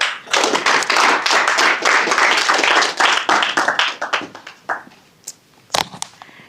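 An audience clapping at the launch of a digital economy policy guide. Dense applause runs for several seconds, then thins out into a few scattered last claps.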